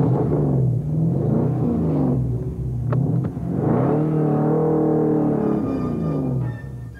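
A Ginetta G33 sports car engine drones and rises in pitch as it accelerates, shifting gears with a brief dip, loud and steady throughout.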